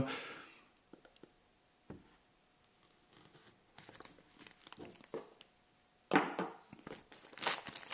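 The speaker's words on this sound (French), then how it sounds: "on va procéder directement au déballage de la boîte" Cardboard box of a Xiaomi Redmi 6 phone being unboxed, with scattered crinkling, tearing and rustling of packaging, quiet at first and building to louder bursts of handling near the end, no talking.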